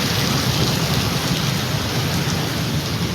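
Heavy rain pours down in a thunderstorm, a dense, steady, loud roar of drops hitting surfaces with no pauses and no voices.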